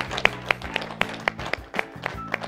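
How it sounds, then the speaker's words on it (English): An audience claps for the judge at a televised cooking competition show, giving brief, sharp, fairly quick rhythmic claps over a low background hum. "A round of applause for him."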